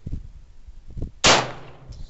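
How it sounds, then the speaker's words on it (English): A single loud handgun shot fired at a target 25 yards away on a shooting range, a sharp crack with a short ringing tail, preceded by faint low rustles and handling sounds. "You're going to shoot 25 yards at the target?"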